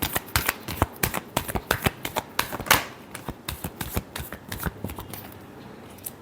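Tarot cards being shuffled by hand, a quick run of sharp papery riffles and taps in an uneven rhythm, close up and on their own.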